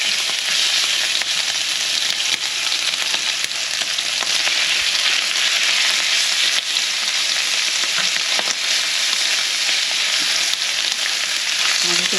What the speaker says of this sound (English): So I'm going to fry this in batches.